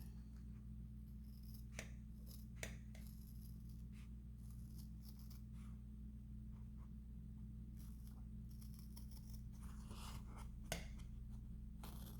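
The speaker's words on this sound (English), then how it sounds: "we also have to go ahead and cut the outside line" Scissors snipping through felt while cutting out ornament shapes, a series of short, quiet crisp snips scattered over a steady low hum.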